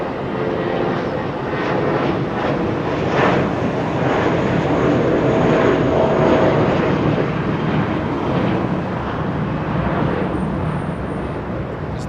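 A departing airliner roars at Los Angeles International Airport, a loud, sustained engine rush with a shifting whine that swells slightly mid-way and then eases, heard alone without talk.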